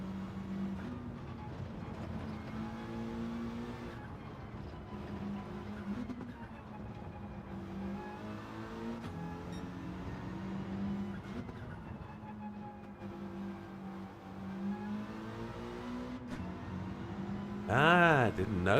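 A heavily modified car drives in a racing video game, its engine droning steadily throughout with shifting pitch, loud and close, and a brief higher burst near the end.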